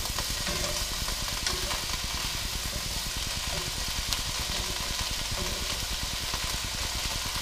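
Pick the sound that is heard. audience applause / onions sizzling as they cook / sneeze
onions sizzling as they cook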